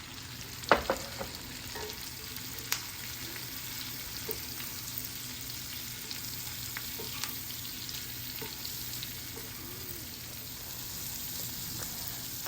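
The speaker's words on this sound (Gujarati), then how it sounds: "So now I'm adding the okra." Okra frying in a pan gives a continuous, even sizzle and crackle, close and moderately quiet, with a few sharper pops and spoon taps scattered through it.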